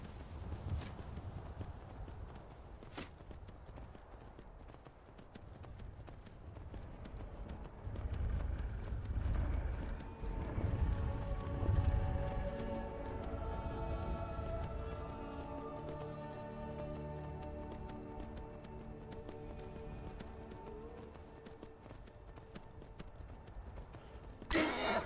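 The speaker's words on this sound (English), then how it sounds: "Horse." A horse in the video game Skyrim clip-clops along in a run of rhythmic hoofbeats, at times heavier and nearer. Faint tonal sounds drift in during the latter half.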